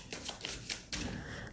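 Tarot cards being shuffled by hand in a short burst of riffling and sliding, with a few crisp papery pulses close to the listener and no talking.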